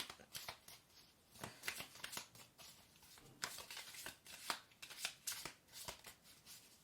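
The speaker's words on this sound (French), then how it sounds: "On va tirer 3 cartes pour voir." Oracle cards shuffled and drawn from a deck, quick papery riffles and flicks close to the microphone in irregular bursts, fairly quiet.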